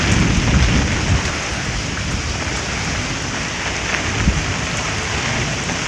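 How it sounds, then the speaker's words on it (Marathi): Steady heavy unseasonal rain pours down with a continuous wash of noise, while low rumbles of thunder roll underneath, swelling briefly near the start and again later. "अवकाळी पाऊस आहे"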